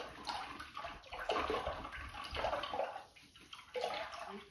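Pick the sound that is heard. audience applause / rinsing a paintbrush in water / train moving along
rinsing a paintbrush in water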